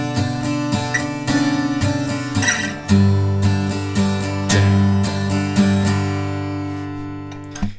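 Guitar strums a song's chorus chords in a steady strumming pattern, full and close, with repeated rhythmic strokes and chord changes over about eight seconds, no speech.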